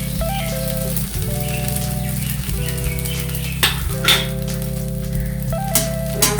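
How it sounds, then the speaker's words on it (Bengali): Rice being stir-fried in a pan, with steady sizzling and repeated scraping strokes of a utensil at a regular rhythm, close and fairly loud, with no talking. "আস্তে আস্তে ভাতগুলোকে মেশাচ্ছি"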